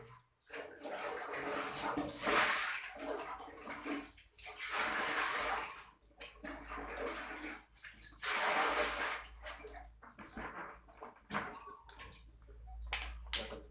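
Water splashes and gushes while a school bathroom is washed, an uneven rushing and sloshing that rises and falls in bursts with brief gaps, moderately close, with faint background activity.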